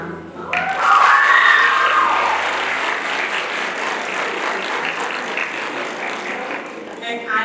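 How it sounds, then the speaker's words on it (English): An audience at a career and technical education awards night claps, a loud burst that swells quickly then settles into sustained, even applause over several seconds. "Give yourselves a round of applause."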